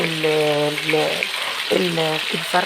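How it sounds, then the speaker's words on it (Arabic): Chicken pieces, cut into quarters, sizzle in a very hot pan with a steady crackling hiss, while someone talks over the frying throughout. "الفراخ تنزل على الطاسه وهي سخنه"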